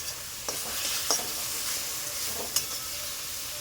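Turmeric, chilli powder, salt and slit green chillies sautéing in a pan, a steady hissing sizzle with a few sharp spatula knocks.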